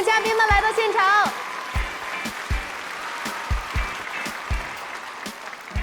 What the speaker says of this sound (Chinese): 让我们掌声欢迎节目嘉宾们来到现场